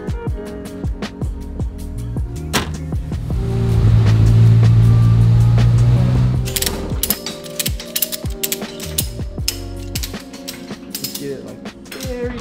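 Ratchet snugging a bolt during setup on a Polaris Pro R, with a run of quick, close mechanical clicks and metallic ticks, plus a steady hum in the middle stretch.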